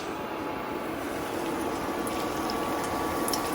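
Steady hissing sizzle of an egg paratha frying in oil in a pan, continuous and close, with no talk.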